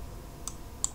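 Computer mouse clicking during a CNC Mach 3 software session, two faint, sharp clicks against a quiet room background.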